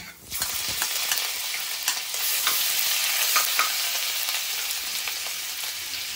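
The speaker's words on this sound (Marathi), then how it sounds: "फोडणी तडतडलेली आहे" Chili, asafoetida and cumin crackle and sizzle in hot oil for dal tadka, a dense close frying hiss with sharp popping bursts and occasional stirring scrapes.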